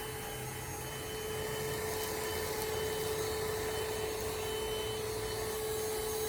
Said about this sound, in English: Tiana's gonna help me out with the vacuuming now